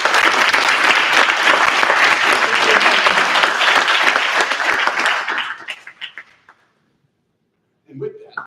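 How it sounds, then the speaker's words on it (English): Dense round of applause for teachers at a school board of education meeting, loud and sustained for about five seconds before tapering off into silence, followed by a brief voice. "So I'd like to offer also a big round of applause for all our teachers this year."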